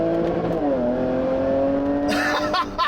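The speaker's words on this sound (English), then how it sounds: "you'll hear the little fire cracking noises, the bark noises, the crackles from the exhaust" A 2017 Jaguar F-Pace S revs under paddle-shift driving, its engine tone holding steady before a burst of sharp exhaust crackles and pops near the end, close and loud.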